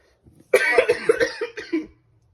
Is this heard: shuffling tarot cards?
no